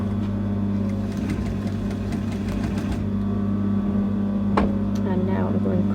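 A sewing machine stitches a cape while its elastic is held stretched, making a steady close motor hum with rapid stitching and one brief knock near the end.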